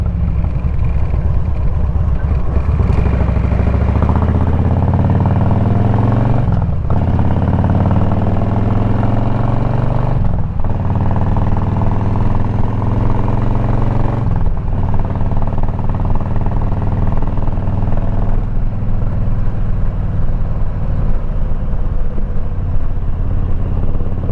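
A motorcycle being ridden, its engine droning loud and close throughout, with rising revs through the gears and brief dips at each shift, and no talking.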